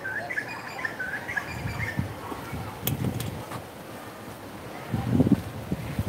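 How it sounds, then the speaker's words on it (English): Steady wind rushing and buffeting the microphone outdoors at a koala sanctuary in Australia, with faint birds chirping in the background and a gust swelling louder near the end. "It's very windy right now. It's really windy."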